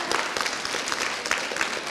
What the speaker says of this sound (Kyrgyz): Ошол жигитиңе бир кол чабып койбойлу.